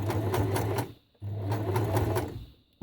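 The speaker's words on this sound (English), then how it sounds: "I'm sewing and I'm kind of wrapping this as I go" Sewing machine running in two steady bursts with a short pause between, stitching scrap fabric wrapped into rope flowers; close, loud motor hum with rapid needle rhythm.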